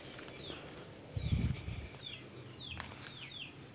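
Chickens clucking in a home garden enclosure, soft and fairly close, a few short clucks and squawks scattered over quiet outdoor background, with a brief low thump near the middle.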